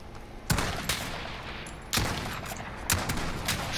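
Sniper rifle shots fired in a 3v3 video game sniper match: four sharp, loud cracks at spaced intervals over a steady game background.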